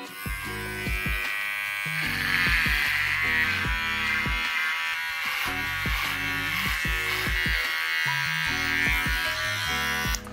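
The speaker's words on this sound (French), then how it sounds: "et après, je me rase le crâne" An electric razor buzzes steadily while shaving a man's head, a continuous close-up hum over background music.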